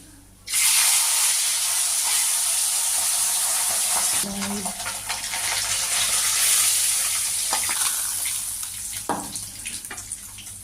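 Pabda fish fry in hot oil in a pan, a loud, continuous sizzle that starts abruptly and holds steady throughout, with occasional small pops and a brief scrape partway through.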